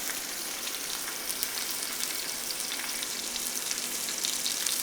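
Steady, close sizzling of stuffed braciole meat frying in a hot pan, a dense crackling hiss that continues evenly throughout.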